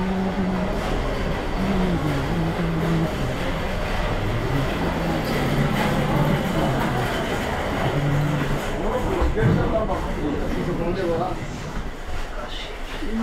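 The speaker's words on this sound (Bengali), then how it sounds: "এটা হচ্ছে ব্রহ্মপুত্র এক্সপ্রেস ট্রেন" The Brahmaputra Express passing by, a steady loud rumble of rolling wheels and rail noise lasting throughout, with a voice talking over it.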